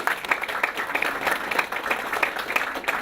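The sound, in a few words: audience applause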